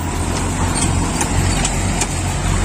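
A truck engine rumbles steadily on a muddy village road on a rainy day, a continuous low drone with no voices over it.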